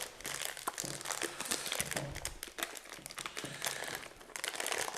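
A plastic bag being turned inside out, with continuous dense crinkling and crackling, close and fairly loud, without pauses or voices.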